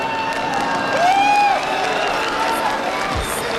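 A large esports crowd at IEM Katowice 2013 cheers and shouts for SK Gaming, a steady roar of many voices filling the hall throughout, with a few whistles and whoops rising above it.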